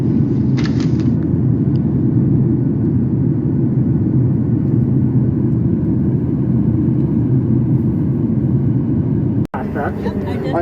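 An airliner takes off from CJI airport in Guyana, heard from inside the cabin as a loud, continuous low engine roar and rumble. Voices come in briefly, and a sharp cut near the end is followed by quieter cabin noise.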